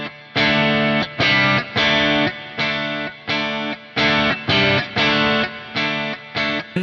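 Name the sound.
electric guitar through a 12 dB boost pedal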